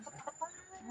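A chicken in a Nepali village gives a brief, faint burst of clucking, a few quick soft notes close by.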